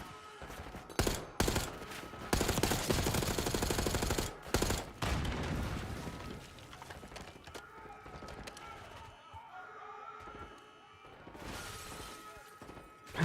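Rapid bursts of video game gunfire crackle in quick volleys, loud and dense for the first several seconds, then thin out into scattered quieter shots.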